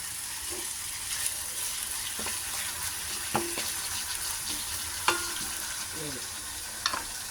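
Chicken adobo with liver sizzles in a pan while a spoon scrapes and knocks against it in occasional separate strokes, close and moderately quiet, with no talk.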